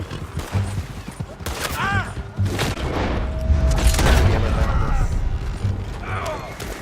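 Gunfire in Red Dead Redemption 2, a burst of sharp shots and booms mixed with horse hooves and game noise, loud and close, with voices shouting over it.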